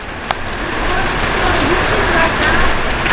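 Steady rain patters outside a shelter during an outdoor dominoes game, a constant close hiss of drops with a brief sharp knock early on and no pauses.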